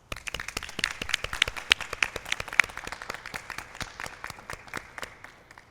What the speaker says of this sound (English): please join me in a round of applause to congratulate Western's newest honorary Doctor of Letters